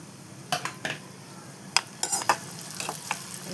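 Cashews and black raisins fry in ghee in a pan, with a steady soft sizzle under repeated close clinks and scrapes of a spoon stirring against the metal.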